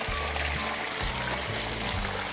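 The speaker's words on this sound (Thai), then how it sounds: "ถ้าแดดร้อนๆแบบนี้ น้ำไหลดีมากครับผม" Water from a solar-powered pump in Nan province flows steadily and continuously, a broad steady rushing wash with low rumbling underneath, fairly close and without talk.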